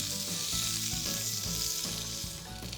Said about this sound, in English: Just warming them up in a frying pan liberates all of their oils and all of their fragrances